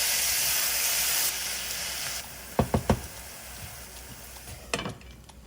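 Pepper sauce with garlic and onion powder sizzles in a pan, loud frying at first, then quieter, with a few sharp knocks of a spoon stirring against the pot.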